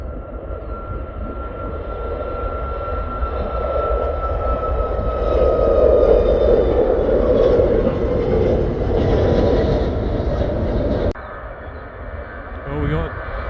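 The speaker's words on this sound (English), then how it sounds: "That's the Boeing 747 cargo plane." A Boeing 747 cargo plane's engines at Stansted Airport produce a broad, sustained roar that swells in the middle and then drops off abruptly, with a person talking over it.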